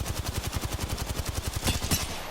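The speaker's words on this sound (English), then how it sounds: "I got a few shots on that Vantage." Gunfire in the Apex Legends video game, a rapid, evenly spaced automatic burst of loud shots lasting about two seconds, with no talking.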